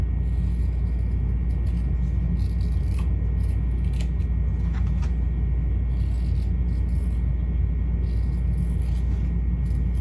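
Scissors trim a fabric bag flap stiffened with stabilizer, a few faint snips and rubs over a steady low room rumble, close but quiet, with no talk.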